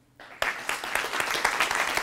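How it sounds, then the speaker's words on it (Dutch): After a near-silent instant, a lecture hall audience at a public talk on burns bursts into sustained applause, a loud, close wash of many hands clapping. "Mag ik een applaus voor Rob Baartse?"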